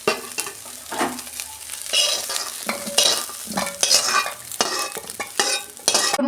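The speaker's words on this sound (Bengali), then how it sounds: "মাছটা আমি ভেজে তুলে নিয়েছি" Dried shutki fish frying in oil in a kadai, a steady close sizzle broken by repeated scraping stirs of a spatula against the pan, with no talking.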